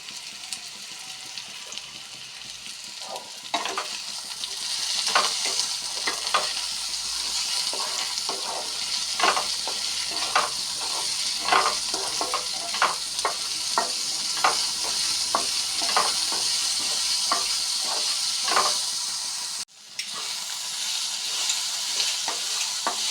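Potatoes fry in a pan with salt, a loud, steady hiss of sizzling oil broken by repeated scraping stirs, close up with no voices and a brief cut near the end.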